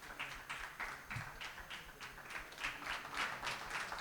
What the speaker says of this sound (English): a huge round of applause for this insightful and thought-provoking session.